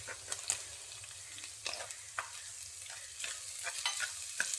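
Tomato, onion and green chilli frying in a pan for a fish curry, stirred with repeated scraping strokes over a steady low sizzle, close and moderately quiet with no talking.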